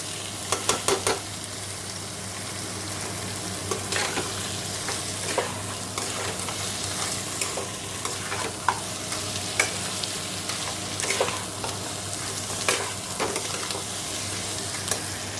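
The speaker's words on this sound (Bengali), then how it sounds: "দেখো আমি মশলাটা একটু কষিয়ে নিয়ে কাঁকড়াগুলো ঢেলে দিয়ে এখন কাঁকড়া সমেত কষাচ্ছি" Crabs stir-fried in spice paste in a pan, a steady dense sizzle throughout with intermittent scraping and clinks of a stirring spatula, close and fairly loud, no voices.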